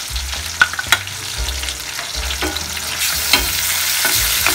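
Meat frying in a pan for okra sisig, any of chicken, beef or pork, sizzling steadily and close with a few sharp stirring clatters and pops throughout, no voices.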